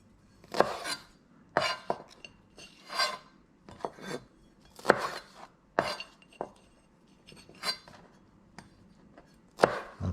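A knife cuts through roast red pork on a board in a series of about a dozen crisp, separate slicing and chopping strokes at an irregular pace, close and clear, with no talking.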